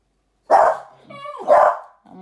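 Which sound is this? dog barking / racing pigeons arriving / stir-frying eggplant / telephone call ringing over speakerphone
dog barking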